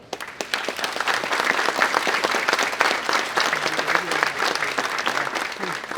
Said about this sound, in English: Let's recognize our young leaders one more time with a round of applause.